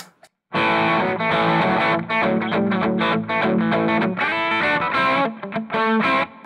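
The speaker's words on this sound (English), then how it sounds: "let you hear the overdrive sound as I kick it in" An electric guitar plays through a heavily overdriven amp, thick and gritty chords ringing loud and sustained, with a short quiet moment before it kicks in.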